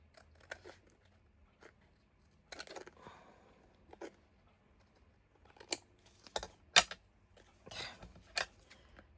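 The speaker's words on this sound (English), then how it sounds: "I need to get some of these edges cut a little better." Dull scissors trim the edges of a paper collage tag, a series of sharp, crisp snips coming in irregular bursts close up against near silence.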